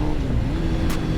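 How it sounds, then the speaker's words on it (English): Motorcycle engine droning steadily at close range as the rider downshifts without rev matching, a continuous low rumble with a brief higher burst near the end. "I'm going to downshift without rev matching."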